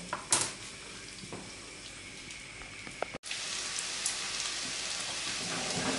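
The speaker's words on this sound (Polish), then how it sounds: "Tutaj w rondlu miałam 2 łyżki tłuszczu i należy cebulę zeszklić." Onion sautéing in two spoonfuls of fat in a saucepan gives off a soft, steady sizzling hiss, briefly cut by a short silence midway and then resuming slightly louder.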